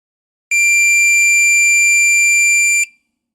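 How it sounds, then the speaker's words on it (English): A multimeter on continuity sounds a single sustained beep with its probes placed on either side of a good fuse, a bright, loud electronic tone lasting just over two seconds in an otherwise silent room. "I should get a beep to indicate that the 2 points are electrically connected."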